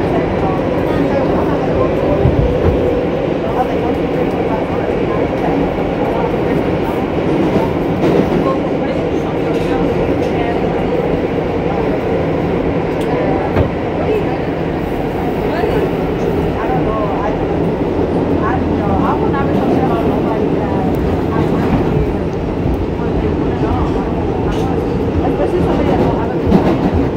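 Steady ride aboard an R142A subway car on the New York City 4 train from Bowling Green to Woodlawn: continuous loud rumble and wheel clatter with rising and falling motor whine, close and unbroken throughout.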